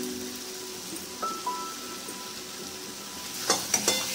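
Masala with ground fried onion paste for a soybean and potato curry sizzles in a pan, a steady low frying hiss with a few light clinks and taps of stirring.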